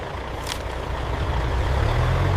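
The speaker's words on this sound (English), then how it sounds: "Truck 42, proceed to scale 1." A truck at a paper mill rolling toward a weigh scale, its engine rumbling low and steady and growing slightly louder, with a short hiss of air early on.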